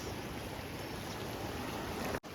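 Floodwater of the swollen Malan river rushes past in a steady, dense roar that holds an even level throughout, with no voices, until a brief sharp dropout near the end.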